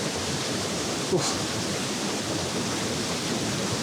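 Big waterfall in the rain, heavy water pouring down as a steady, loud broadband roar close by, with a brief grunt from a person partway through.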